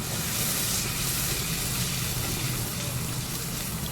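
Water poured into hot oil in a cooking pot makes a loud, steady sizzling hiss that stays even from start to finish, with no talking.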